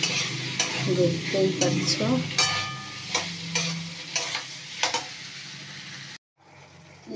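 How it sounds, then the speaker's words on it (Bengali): Mixed vegetables fry in a pan with salt and get stirred, rhythmic scraping and clattering strokes over a steady sizzle, with a brief spoken remark and a short silence near the end. "এবার ভালো করে নেড়ে চেড়ে নেব।"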